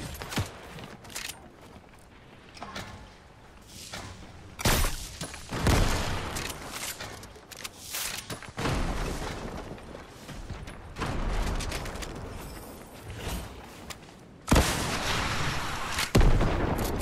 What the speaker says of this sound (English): Oh my god, I'm getting sniped at.